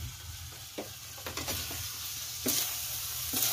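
Fish and other catch being stirred in a cooking pan over a continuous sizzle, with a few scraping and clattering stir strokes heard up close.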